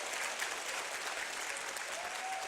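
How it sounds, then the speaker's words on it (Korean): Steady broadband applause from a large audience at an Atomy corporate gathering, sustained and even throughout with no pauses, filling the hall evenly. "우리 감사의 박수 한번."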